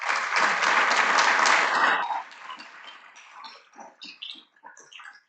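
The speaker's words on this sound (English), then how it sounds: "Yeah, you can applaud." A luncheon audience applauds loudly for about two seconds, then the clapping cuts off abruptly and a speaker's voice carries on alone.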